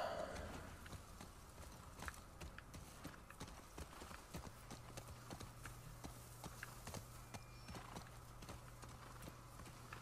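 Horse hooves clip-clop steadily in The Last of Us Part II, a ridden horse walking at an even rhythm, fairly close and moderately loud over a low game ambience.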